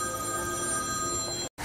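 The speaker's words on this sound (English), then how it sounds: "when your phone rings through your amplified sound system" A steady electronic telephone ring played through an amplified speaker system, bright sustained tones, loud and continuous, cutting off abruptly near the end.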